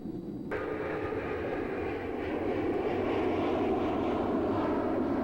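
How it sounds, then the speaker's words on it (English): A Boeing airliner takes off from Edwards Air Force Base in California, its engines building into a steady, loud roar that holds for several seconds with no voices. "the Boeing took off from Edwards Air Force Base in California"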